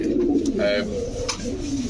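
Quality pigeons kept for sale, such as racers, Sirajis, Budapests and Danish, coo together nearby, a steady, fairly loud low rolling warble with a brief higher call partway through and no talk over it.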